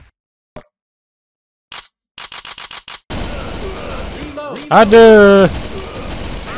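Rapid bursts of gunfire from the arcade light-gun game Virtua Cop 2, single shots and quick strings, loud and close, followed by game effects with a voice speaking over them.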